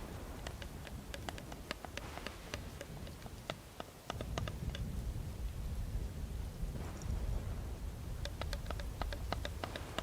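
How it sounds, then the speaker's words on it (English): Rain and thunder ambience with a steady hiss and a deeper rumble that swells partway through, while sharp tapping clicks sound close over the top. "if I didn't have rain noises going"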